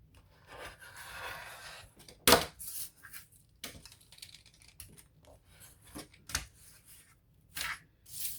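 Scissors trim through paper journal pages for a homemade junk journal, making several sharp, close snips with brief rustles of paper between them.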